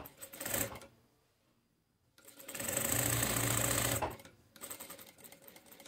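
A sewing machine stitches bias binding onto a men's shirt in two close, loud bursts of rapid steady clatter separated by a short pause.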